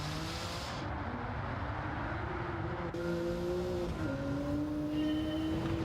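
Race car engine in a racing video game, a loud continuous droning whine that holds steady, then drops in pitch as the car gears down and brakes hard, no talk.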